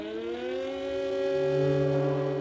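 A loud civil defense siren wails over Pyongyang at noon in a sustained, slightly rising tone, holding steady throughout without any voices.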